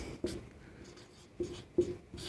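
Chalk or marker taps and short strokes on a board during a physics lecture, a few brief, faint scratches spaced irregularly in a quiet room.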